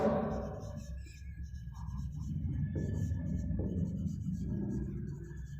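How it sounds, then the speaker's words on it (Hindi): Chalk or marker writing on a board during a chemistry lecture, a soft continuous scratching over low room rumble, close and moderately quiet, with no speech over it. "अब यहां पे लिखेंगे हम लोग"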